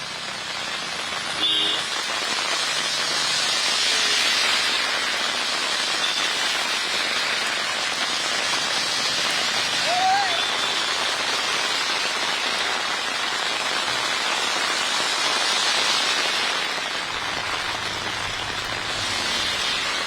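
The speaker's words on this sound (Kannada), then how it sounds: "ಇವತ್ತೊಂದು ಸ್ವಲ್ಪ ಮಳೆಯ ಅಬ್ಬರ ಆರ್ಭಟ ಜೋರಾಗಿದೆ" Heavy rain falling across Bengaluru, including around Majestic and Rajajinagar, a dense steady hiss of rain on surfaces that holds throughout with little variation.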